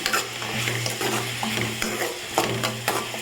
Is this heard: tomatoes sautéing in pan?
yes